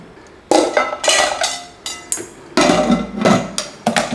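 Metal roasting tray of roasted vegetables set back into an oven, with a series of sharp clanks and clatters of metal on oven racks, moderately loud and close, no talking.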